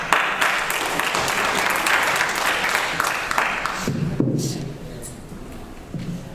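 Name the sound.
audience applause welcoming speaker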